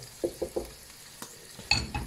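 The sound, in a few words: peppers stirred in pan juices, scraping the browned bits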